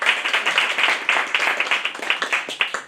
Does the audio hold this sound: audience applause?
yes